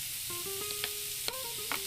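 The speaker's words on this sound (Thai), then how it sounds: "เราก็ใส่มะเขือที่เตรียมไว้ลงไปผัด" Eggplant and pork stir-frying in a pan, a brief soft sizzle with a few clinks and scrapes of a utensil against the pan, close up, with no talk.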